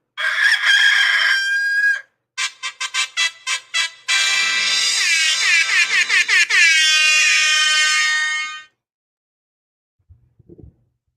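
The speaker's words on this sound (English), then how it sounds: "We got old Dusty, my fighting rooster." A fighting rooster crows loudly and close, a long harsh call broken into choppy bursts and stretched cries, then falls silent before a brief faint clatter.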